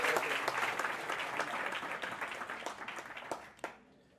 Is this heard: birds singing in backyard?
no